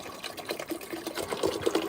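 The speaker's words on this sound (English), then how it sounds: "pour the water in here like this" Water pours into a countertop ice maker with a steady, bubbling splash that runs throughout, close and moderately loud, with no talking.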